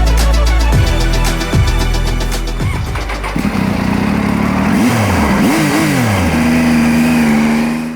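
A Triumph Tiger adventure motorcycle with an inline-triple engine is ridden on a road. The engine is loud and close, revving up through several gears, then settles into a rising and falling drone.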